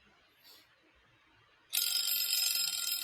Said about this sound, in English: And that is the timer